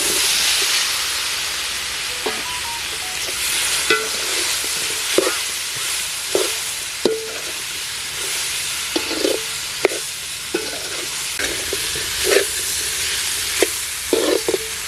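Drumstick pieces fry in oil with chili and turmeric powder for a Tamil drumstick poriyal, giving a steady sizzling hiss broken by frequent clinks and scrapes of stirring.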